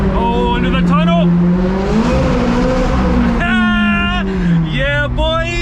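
A McLaren 600LT engine revving hard inside a tunnel, loud and close, with rising and falling gear pulls and crackles echoing off the walls, a voice briefly audible.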